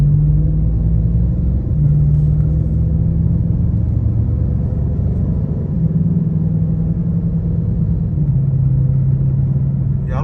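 A steady, loud engine drone from inside a Dodge Charger R/T with muffler and resonator deleted, a deep rumbling hum with slight shifts in pitch as it cruises.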